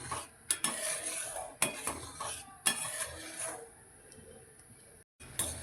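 Sugar being stirred in a pan as it melts into syrup: a spoon clinks and scrapes against the metal in irregular strokes over a soft sizzle, with no voices.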